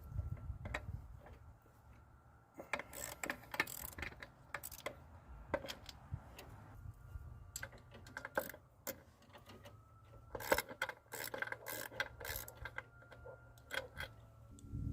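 A ratchet wrench works loose the intake manifold bolts on a 1999–2001 Jeep Cherokee, giving quick, close clicking bursts in uneven runs separated by short pauses.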